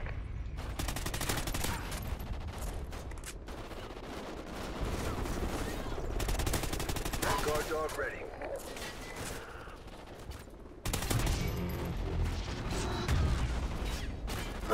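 Dense, continuous gunfire from a multiplayer match in the video game Call of Duty: Ghosts, bursts of automatic shots layered over busy game noise and effects, with someone talking over parts of it.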